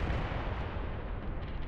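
Mortar fire in the Mius Front war strategy video game, a dense, rumbling barrage of low booms that continues throughout the short stretch without pause.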